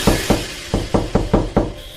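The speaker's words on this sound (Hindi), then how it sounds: "अब रात्रि के बिल्कुल ठीक 12 बजे सरपंच का दरवाजा खटकता है।" Someone knocks on a door at midnight: seven firm, evenly spaced raps, close and loud, with no other sound around them.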